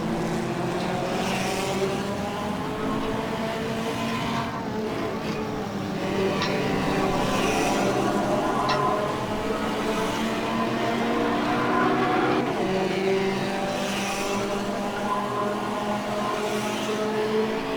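Race cars in rFactor roar along continuously, the engine notes rising and shifting as several cars run close together, the sound steady and loud throughout with no one talking.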